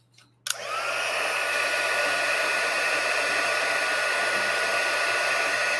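A heat tool switches on with a click and then blows a loud, steady, hair-dryer-like whoosh while heat-setting embossing powder for cardmaking, holding constant to the end.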